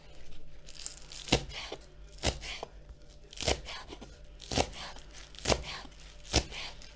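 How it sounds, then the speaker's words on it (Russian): A knife chops fresh cilantro on a board in a series of crisp, loud, evenly spaced cuts, each with a short crunchy rustle of leaves between strokes. "И немножко порежу кинзы."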